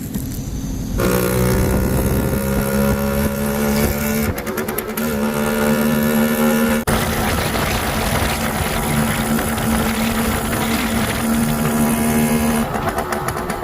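An old 1979 motorcycle engine idles and runs steadily, loud and close, with a rough mechanical rumble and occasional shifts in pitch.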